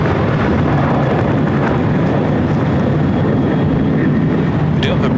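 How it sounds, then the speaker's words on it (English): An American Airlines Boeing 777-200ER jet takes off from runway 25 right at LAX, a loud, steady broadband engine roar that holds throughout, with a faint voice over it. "American Airlines Flight 168 at 777-200ER heading to JFK. Be taking off"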